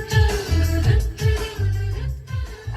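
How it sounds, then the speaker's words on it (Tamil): Music plays through the Bose speaker system inside a Kia Seltos GT diesel cabin, a steady song with strong rhythmic bass thumps and sustained tones, heard alone at moderate loudness. "போஸ் ஸ்பீக்கரோட சவுண்ட் குவாலிட்டி பாருங்க"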